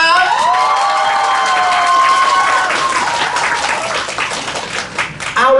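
Loud applause and cheering from a concert-goers' crowd at a Bangkok press conference for a K-pop girl group's 2023 world tour, with shrill whistle-like cheers over steady clapping that eases slightly toward the end.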